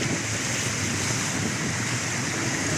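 Flood water splashing and rushing continuously around someone wading through a flooded street, a steady broadband wash with a gusty, surf-like texture and no voices.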